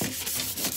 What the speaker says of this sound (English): my sandpaper, I think this is 220, yep, 220, do a light sanding on the surface